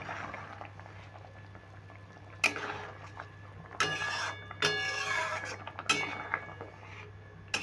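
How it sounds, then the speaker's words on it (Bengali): A spatula stirs paneer curry in a pan. Several distinct scraping and clinking strokes land over a quiet simmer, close and fairly faint. "এখন আমি খুন্তি করে নেড়ে দেবো"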